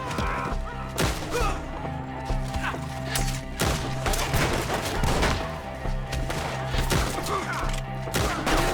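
Dense gunfire in the video game Red Dead Redemption 2 during a shootout with enemies up in a tree: loud, near shots and rapid volleys keep cracking over a steady background, with overlapping bursts all the way through.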